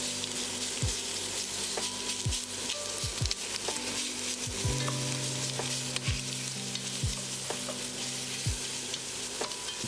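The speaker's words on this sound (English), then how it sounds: "Once your oil is hot in the pan, you can add your shrimp" Shrimp sizzle in hot olive oil in a deep pan for a creamy Tuscan shrimp pasta. A steady, loud frying hiss runs throughout, with occasional scraping stirs and spatters and no voices.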